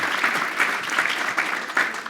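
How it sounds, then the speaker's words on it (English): An audience at a health-care policy keynote gives a short round of applause, dense, even clapping throughout at moderate volume. "Let's just give Steve a round of applause because he deserves it"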